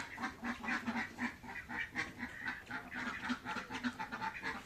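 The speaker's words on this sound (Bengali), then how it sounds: "এই জায়গায় হাঁসগুলো কি শুরু করছে।" A flock of ducks quacks continuously at close range on a foggy morning, a dense overlapping chorus of calls with no speech.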